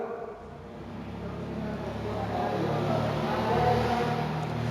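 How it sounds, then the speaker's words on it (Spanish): A car passes close by, its engine noise swelling and rumbling steadily over a few seconds, with faint voices in the background. "pasó el carro y no escuché a nadie más que el motor del carro"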